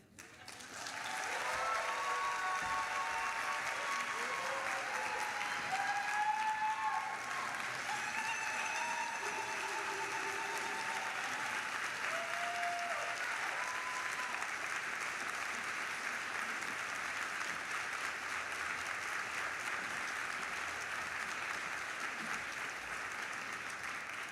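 Sustained applause from an audience at the Public Humanities Awards, steady and full for the whole span, with faint voices and a few whoops mixed in near the start.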